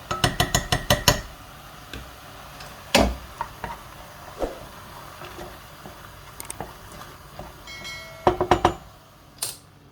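Utensils clink and tap against a pan while a spinach and mushroom frittata is mixed, with quick rhythmic knocks at the start, scattered light taps in between and another burst near the end, close and fairly quiet.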